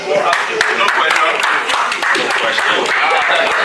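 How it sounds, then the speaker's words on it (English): An audience at a 40th birthday cocktail gathering breaks into steady, loud applause, dense overlapping clapping throughout. "Please, clap your hands together for this glorious talent."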